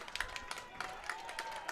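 Home fans cheer in the closing seconds of a boys' high school lacrosse game between Episcopal Academy and Malvern Prep, a faint, distant crowd roar with scattered claps and sharp thuds, heard under a steady tone.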